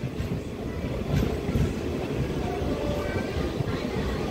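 DEMU passenger train pulling out of Madikera station, a dense rumbling roll of wheels and engine close by, steady and loud, with faint speech in the background.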